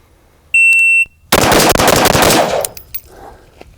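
A rifle fitted with a muzzle brake and no suppressor fires a rapid string of sharp, very loud shots, close and reverberant, after a short electronic start beep from a shot timer.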